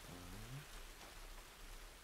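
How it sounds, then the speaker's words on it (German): Steady rain hissing in the video game Tomb Raider (2013), a soft, even patter throughout, with a faint low tone near the start. "Aber es regnet ja schon wieder."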